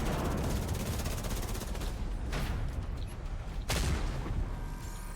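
The Division 2 firefight rattles with sustained rapid automatic gunfire, fairly distant and steady, broken by a couple of sharper louder bursts.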